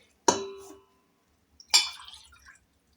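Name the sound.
water being poured into a glass for dough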